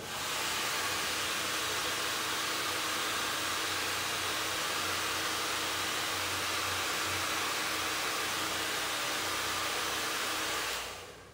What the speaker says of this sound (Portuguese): vamos utilizar agora um secador, só para ativarmos a cola